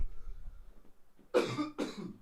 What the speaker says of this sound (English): I keep coughing whenever I say CJ